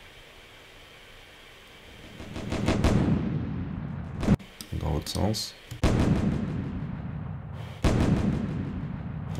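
A delay plugin effect processing a burst-like sound, the echoing repeats building and cutting off in distinct bursts, loud and close, with a brief voice in the middle.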